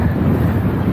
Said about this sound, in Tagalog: Parang tinatangay ako ng hangin papuntang right.